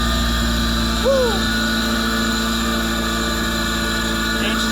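A freshly rebuilt Honda Prelude H22A engine runs steadily just after startup, giving a loud, even idle hum with a constant mechanical drone and no distinct revs.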